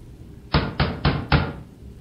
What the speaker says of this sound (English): Violent pounding then shook the entire door.